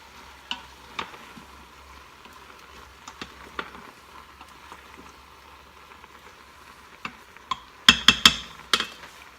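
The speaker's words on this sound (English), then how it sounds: "Give this a stir." Tomatoes and soup ingredients are being stirred in an Instant Pot, making faint scraping and clinking sounds that build to a short cluster of sharper knocks near the end.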